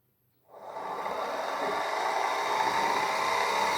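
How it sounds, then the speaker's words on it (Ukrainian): An electric motor is switched on in a home-built resonance free-energy rig, a steady broadband whirring hum that starts abruptly after half a second of near silence and runs on evenly and fairly close. "Включаю двигун."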